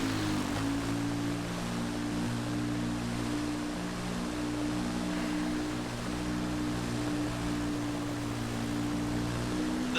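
A rally motorbike in a Dakar rally video game, on the Al Artawiyah to Al Qaisumah stage, holds a steady humming engine drone under a continuous hiss of water spray as it ploughs through a flooded track.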